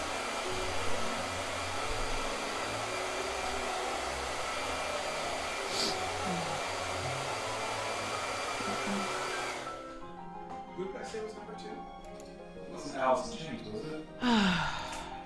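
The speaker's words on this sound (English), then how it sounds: "But blow dryer." A blow dryer whirs loudly and steadily for about ten seconds, then cuts off, after which a person sighs and speaks briefly in the quieter room.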